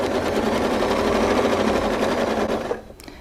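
A sewing machine runs at a steady, fast stitching drone while quilting a line along a ruler, close and loud, then stops abruptly near the end, leaving a few faint clicks.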